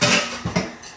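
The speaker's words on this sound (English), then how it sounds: "I got these deep dish pizza pans." Metal deep dish pizza pans, Uno's-style, clatter as they are handled: a loud opening clank followed by two shorter knocks, close by with no voices.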